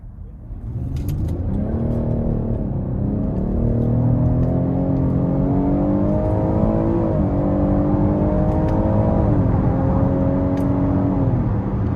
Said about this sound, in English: we're gonna try out the paddle shifters in the manual mode, and we'll see what this thing can do